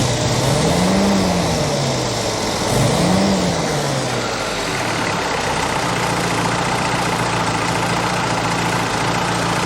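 A small engine idles after carburetor work and a valve adjustment, with a repaired gasket no longer leaking: a loud, steady idle with two brief rising-and-falling tones near the start, and no talk.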